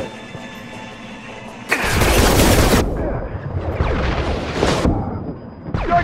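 Loud shotgun blasts from Mass Effect 2 combat, a burst of heavy booming fire followed by further shots and clatter, with a voice talking over the battle.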